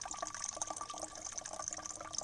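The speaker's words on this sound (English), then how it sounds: "And you squeeze back through the bottle, through the filter. And you get clean filtered water." Water squeezed from a bottle through a filter outdoors at an island campsite, a soft, steady trickle and gurgle lasting a couple of seconds, faint and close with no talk.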